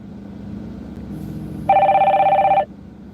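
A telephone rings once, a loud, close electronic trill lasting about a second over a low background hum, with no talking.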